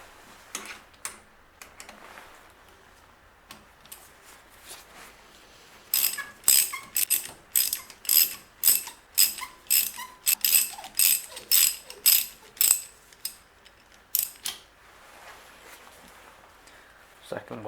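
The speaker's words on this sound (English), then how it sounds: "What you need here is a 7mm spline socket." A hand ratchet fitted with a 7mm spline socket clicks in quick repeated strokes while undoing brake bolts on a VW Caddy, close up and loud, with a voice talking at times.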